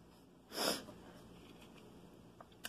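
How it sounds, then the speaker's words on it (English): One distinct, close sniffle through the nose, a quick breathy inhale, followed by quiet with a couple of faint clicks. "I always seem to have the sniffles whenever I'm making a video."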